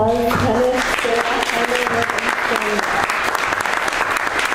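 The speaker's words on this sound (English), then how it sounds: "let's give everyone a round of applause" A conference audience applauding at a session in Chicago, dense steady clapping from many hands filling the room at close range.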